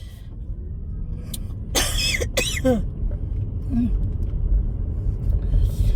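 A couple of quick coughs break through a steady low rumble of background noise, close and fairly loud.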